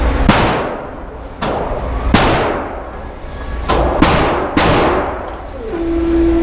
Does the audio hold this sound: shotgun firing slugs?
yes